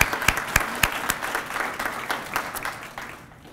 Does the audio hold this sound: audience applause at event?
yes